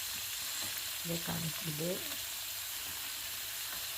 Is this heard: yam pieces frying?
yes